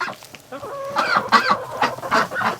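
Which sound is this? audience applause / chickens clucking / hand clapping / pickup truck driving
chickens clucking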